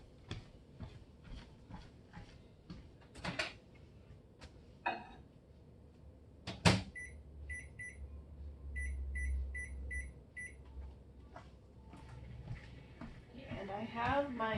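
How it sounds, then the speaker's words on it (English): A microwave oven melting beeswax hums low and steady for a few seconds, with a cluster of short, bright beeps repeating in a pattern, amid kitchen clatter and some talking. "I'm gonna go pop this in the microwave."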